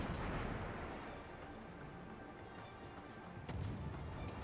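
Warship guns fire in World of Warships as repeated booming salvos over a dense, steady rumble of battle noise, loud and close, with no talking.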